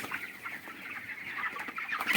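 Chickens on a poultry farm clucking, a busy overlapping chorus of short clucks and calls at moderate distance, continuous throughout with no speech.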